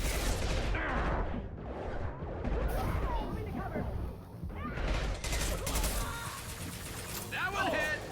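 A high-impact gunshot from Mass Effect 2 rings out amid dense, sustained combat noise, with more bursts of gunfire and clatter through the stretch and game voices mixed into the din.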